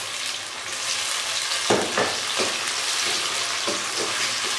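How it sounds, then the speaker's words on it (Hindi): Chopped tomatoes dropped into a pan of half-fried pink onions for dhaba-style chana dal, a steady sizzle with a few stirring knocks, close and without talk. "प्याज पिंक हो गए हैं, हाफ फ्राई हो गए हैं। अब हम इसमें टमाटर शामिल करेंगे।"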